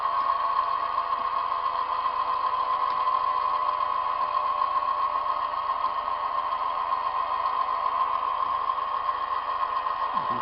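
A machine steadily cuts a metal profile on a rotary table down toward the faceplate, a constant, even, moderately loud whine and hum running unchanged throughout with no voices.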